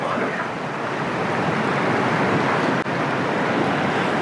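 The Baspa River at Chitkul in Kinnaur, Himachal Pradesh, flows fast through the mountains, heard up close as a dense, continuous roaring rush with steady broadband noise and some wind buffeting on the microphone, with no talk.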